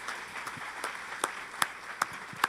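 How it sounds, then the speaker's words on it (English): An audience at the reopening of a retreat centre claps with light, scattered applause, a few sharper claps standing out near the end. The sound is soft and somewhat distant. "Keep the applause going."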